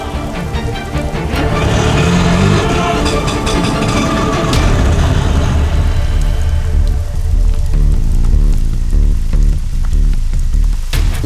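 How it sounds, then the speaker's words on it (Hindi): Steady rain falls on a surface with a car engine idling underneath, a continuous close wash of drops with no voices, at night near a roadside. "बारिश में भीगिए मत, अंदर आ जाइए।"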